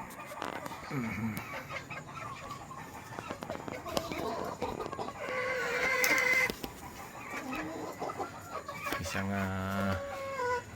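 Chickens in a farm breeding pen, one rooster with eight pullet hens, cluck and call close by. A rooster's crow is heard near the end, and someone talks over the birds throughout.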